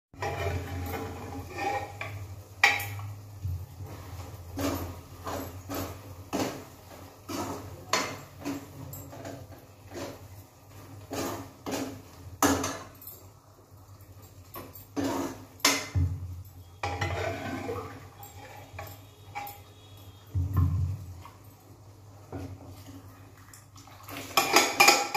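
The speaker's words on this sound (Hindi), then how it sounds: "अब मैं बर्तन सेट कर रही हूँ ऊपर" Cooking pots and metal utensils are set out in a hillside home kitchen, with frequent clanks, scrapes and clinks of dishes and cutlery coming close and irregular, some sharp and loud, with no talking.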